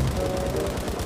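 A tank in the mobile shooter Battlefield Mobile fires a loud, rapid burst of gunfire that carries on without pause for about a second, close and dense.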